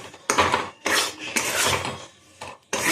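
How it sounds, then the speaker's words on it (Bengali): Sattu, roasted gram flour, is stirred with ghee in a pan over low heat. Close, loud scraping strokes of a utensil against the pan come in several separate bursts with short pauses between them. No one speaks. "ঘি দিয়ে ভালো করে নাড়তে হবে এটাকে সিমে দিয়ে, হয়তো তলায় লেগে যাবে।"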